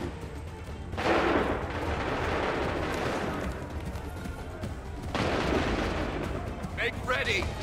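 Two thunderous musket volleys in Assassin's Creed III, the first about a second in and the second around five seconds. Each is a broad, loud crackling blast that rolls on for several seconds, with voices and battle noise underneath.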